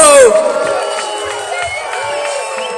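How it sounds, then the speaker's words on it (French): A crowd at the FISE 2019 expert semi-final cheers and applauds a rider's run, a loud roar that fades into sustained clapping and babble under an excited commentator speaking over a sound system. "C'est nickel ça, on applaudit Hugo."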